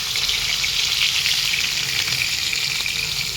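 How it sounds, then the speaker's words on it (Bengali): Hilsa fish frying lightly in a pan, giving a steady, close sizzle and crackle of hot oil that continues without a break. "এই দেখো ইলিশ মাছ হালকা করে ভেজে নিচ্ছি"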